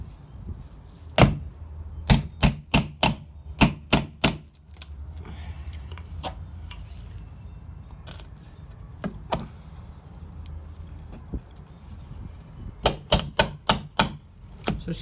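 Metal nail puller working a stuck nail out of wood: a series of sharp, close metallic clicks and taps in irregular bursts, with quiet gaps between them and no talking.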